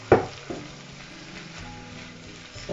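Buns toast in a hot pan, a soft, steady sizzle framed by a sharp clunk of the pan at the start and another knock near the end.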